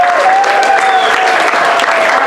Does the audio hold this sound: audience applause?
yes